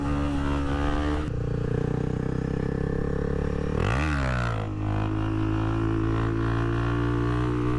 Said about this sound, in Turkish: Ara gaz veriyorum ve debriyajı aniden bırakıyorum.